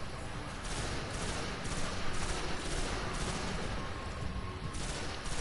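Gunfire from the video game Destiny comes as a rapid, steady stream of shots under dense combat noise. It stays fairly faint and continuous, with a repeating pulsing rhythm throughout.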